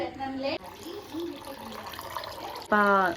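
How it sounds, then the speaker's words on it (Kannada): Packaged milk is poured from its packet into a cooking pot for kheer, a soft watery splash and trickle running under continuous close talking. "ಸೊ ಇಲ್ಲಿ ಇನ್ನೊಂದು ಪಾಕೆಟ್ ಹಾಲು ಹಾಕ್ತಾ ಇದ್ದೀನಿ"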